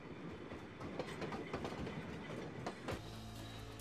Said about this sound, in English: The Kuranda Scenic Railway travels from the centre of Cairns on the coast up to Kuranda